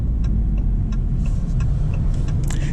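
2025 Maserati GranCabrio Trofeo in Corsa mode, heard from inside as a low, steady engine rumble while driving, with faint ticking clicks over it and no clear revving peak.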